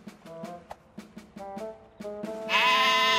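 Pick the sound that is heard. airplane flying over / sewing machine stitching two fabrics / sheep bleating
sheep bleating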